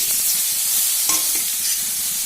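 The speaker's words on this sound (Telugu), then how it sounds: "పోపు అయితే వేగిపోయింది ఇప్పుడైతే టమాటా వేసేసుకుందాము" Tomatoes sizzle in hot tempering oil in a pan for drumstick chutney, producing a loud, continuous close hiss and crackle with faint stirring underneath.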